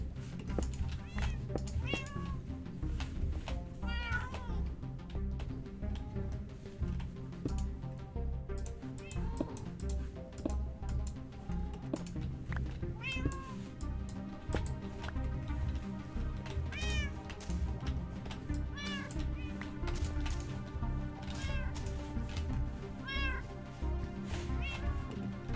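Repeated meowing from a cat in Minecraft, a video game, short cries recurring every few seconds over a continuous bed of game music, moderately loud throughout the stretch.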